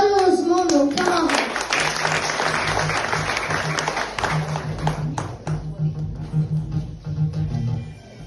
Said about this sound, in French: Applaudissez chaleureusement nos camarades.